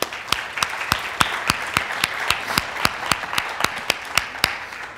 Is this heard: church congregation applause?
yes